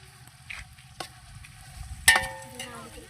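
Meat for biryani hits a hot pot with a sudden loud sizzle partway through, after light clatter and stirring noises; the frying hiss then trails off gradually.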